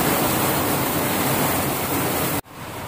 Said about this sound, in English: So it's still pouring rain.